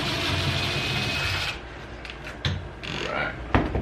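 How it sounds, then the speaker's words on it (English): A powered screwdriver whirs steadily as screws come out of a Kwikset smart deadbolt, then stops, followed by a few close clicks and rattles of loose hardware. "First thing we're gonna do is take out these two screws here on the ends."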